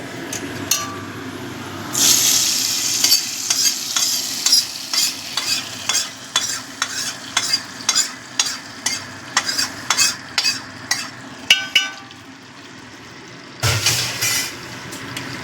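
A spoon scrapes and stirs rhythmically through a pot of vegetarian khichuri as fried cashews are mixed in, with bursts of hot sizzling at the start and end and a steady run of clinking strokes between, close and no talking.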